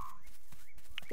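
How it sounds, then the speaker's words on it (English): Magpie call from the Australian outback video game Dinkum, a short tonal bird warble heard among soft in-game ambience near the end. "I can hear a magpie."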